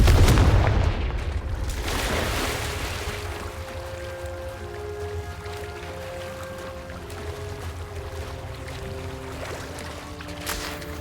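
The Confringo blasting spell in Hogwarts Legacy goes off as a loud, booming explosion at the start, then trails into a lingering rumble with ringing tonal echoes and faint debris.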